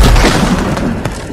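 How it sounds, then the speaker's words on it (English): A loud, booming explosion in Ghost of Tsushima fills the moment with a dense, sustained rumble and crackling debris, close and overwhelming, followed by a sharp pop near the end. "What was that explosion?"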